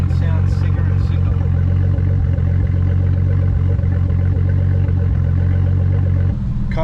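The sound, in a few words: Nissan Skyline R32 GTS-T engine running rough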